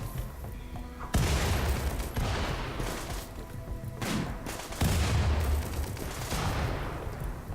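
Gunfire in the colony-management game Rimworld during a raid rattles out in dense bursts of shots and booms, fairly faint overall and continuous, with no talk over it.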